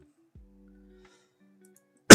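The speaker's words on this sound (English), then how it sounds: "Don't mean to cough into the mic." A single sharp, loud cough bursts right into a close microphone at the very end, after near silence with only a faint low hum before it.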